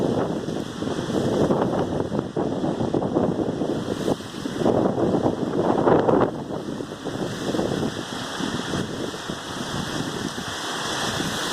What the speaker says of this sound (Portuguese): Chuva de vento.